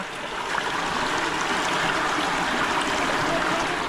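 Rainwater runs steadily into a large roadside drain culvert during the monsoon, a continuous close rushing trickle with a soft gurgle that holds even in level, and no voices.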